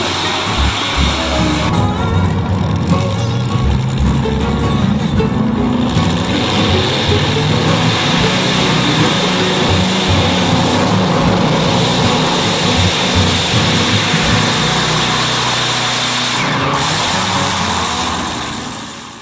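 Tractor-pulling engines strain under heavy load at a pulling competition, a loud, continuous, dense roar that holds steady for the whole stretch and eases off only at the very end.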